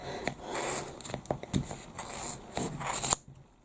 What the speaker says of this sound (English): You really need a good pair of scissors to cut through.